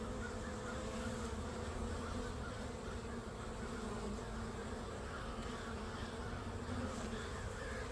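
Honeybees from a small overwintered swarm fly around the hive entrance, giving a dense, continuous buzzing hum close to the microphone, steady throughout with no talking.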